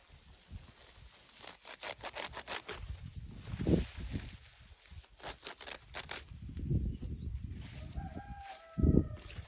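Chickens cluck and a rooster crows inside a coop, several birds calling at once in overlapping bursts, with a louder crow rising near the end.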